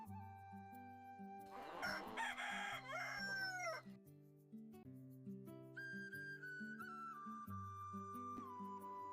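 A rooster crows in a Telugu village, a loud drawn-out call in the first few seconds over a steady bed of background music that continues throughout.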